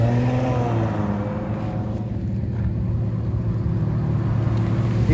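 A Ferrari F430 engine roars continuously at moderate distance, its layered harmonic tones swelling and shifting as the revs change.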